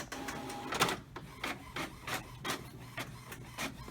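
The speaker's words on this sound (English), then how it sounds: "we're gonna go ahead and print some printer status reports" An HP Officejet Pro inkjet printer runs off status reports, its print head shuttling in a steady train of short whirring passes with a few clicks, close and clear with no talk.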